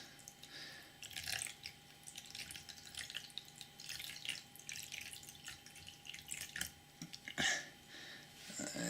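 Old vinegar glugging and dripping out of a bottle into water, with irregular splashes and drips over a steady faint background, ending in a louder gurgle near the end.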